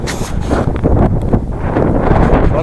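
Strong wind roars through a Mongolian valley, buffeting the microphone in loud, gusty rushes with low rumbling surges, steady and close throughout.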